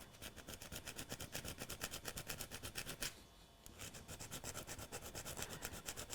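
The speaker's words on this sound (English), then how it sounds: "Now I've just got to prepare the point, which just means a little bit of a scratching up on those surfaces" Rapid back-and-forth scratching as the metal surfaces of a model railway point are roughened before soldering, a steady rasping rhythm up close, broken by a brief pause near the middle.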